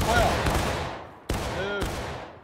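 A Civil War reenactor company fires a musket volley, a ragged burst of shots followed by two more sharp reports with echoing tails, while shouted commands carry under the fire.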